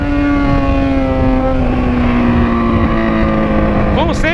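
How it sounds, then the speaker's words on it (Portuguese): A Yamaha XJ6 motorcycle exhaust roars at close range with a strong steady engine drone and gradually shifting pitch, ending in a few rising revs. "Como sempre, berrando muito"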